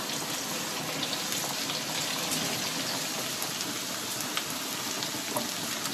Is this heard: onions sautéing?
yes